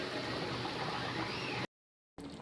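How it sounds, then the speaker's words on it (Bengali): Potato curry (aloo dum) gravy boiling in a pan, a steady bubbling hiss for over a second and a half, then a brief cut to silence before the simmer resumes. "ঝোলটা ফুটে উঠেছে"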